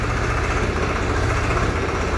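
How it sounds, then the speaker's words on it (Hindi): A new tractor engine idles in a steady, even rumble with a fast low throb, close by and continuous, with no voices over it. "अब ट्रैक्टर स्टार्ट की"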